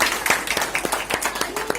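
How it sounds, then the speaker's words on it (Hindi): An award ceremony audience claps loudly and steadily to welcome a winner, with sharp, closely spaced hand claps throughout. "जोरदार तालियों से स्वागत किया जाए।"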